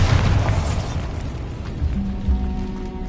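A Bombarda blast spell from Hogwarts Legacy goes off as a loud, close booming explosion, its heavy low rumble decaying over a few seconds into a steady hum.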